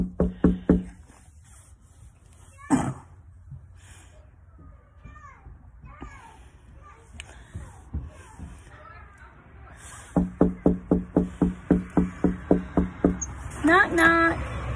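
Knocking on a door at a home with children about: a rapid burst of about ten loud, close raps, with a few earlier knocks and a higher-pitched voice-like sound, and children's voices and chatter in between.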